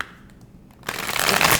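A short, loud burst of tarot cards being shuffled, following a brief quiet moment, with no talking.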